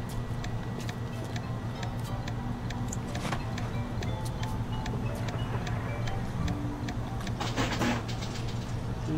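Steady, faint, regular ticking plays throughout BioShock gameplay, sitting under a constant hum of background noise with no talking.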